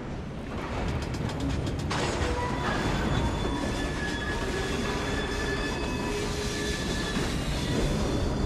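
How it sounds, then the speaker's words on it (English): Train running in the video game Assassin's Creed Syndicate: a steady, loud mechanical clatter of wheels and couplings with a brief rapid ratcheting rattle early on and faint metallic squeals over the continuous rumble. "We fixed up the train for you."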